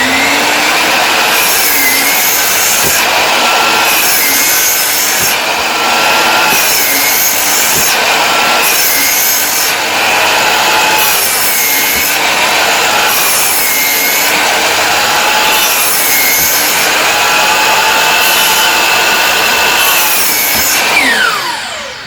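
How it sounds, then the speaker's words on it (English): A hand saw cuts lap joints into lumber for raised garden bed frames, rasping steadily and loudly in repeated back-and-forth strokes for the whole stretch, with a gritty, rhythmic texture and no talking. "now I'm going to show you how we make one of these lap cuts"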